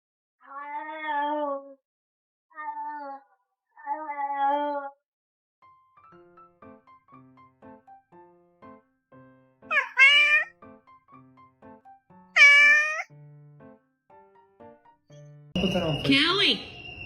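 A house cat meows several times, three clear drawn-out calls near the start, then two rising meows later over quiet background sounds, followed by a brief burst of other noise at the end.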